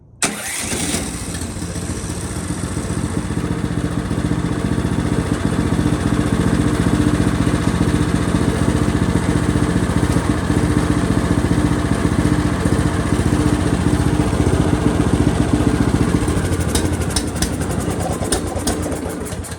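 A Torrey snowblower engine cranks by push-button without the choke, catches and runs at a steady loud idle close by for most of the stretch, with a few sharp clicks near the end.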